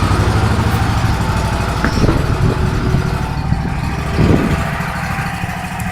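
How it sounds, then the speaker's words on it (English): A 2004 Toro Z Master commercial zero-turn mower with a Turbo Force 60-inch deck idles steadily nearby, its engine giving a loud, even rumble with a few faint knocks and no talking. "I'll go ahead and start this back up so we can keep warming up"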